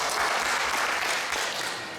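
A crowd at a chairman election meeting applauds the newly announced chairman, a loud, dense wash of clapping that tapers slightly at the end.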